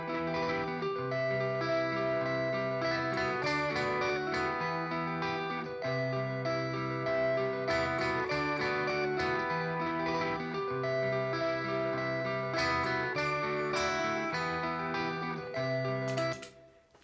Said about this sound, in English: And now we have our bass that we can start doing all the overdubs with.